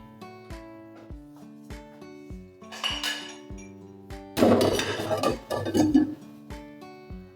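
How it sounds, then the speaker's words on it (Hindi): A metal spoon clinks repeatedly against a cooking pot while stirring ghee, light rhythmic taps throughout with a louder, busier patch of scraping and clatter midway, no talk. "और हम घी को हिलाते जाएंगे।"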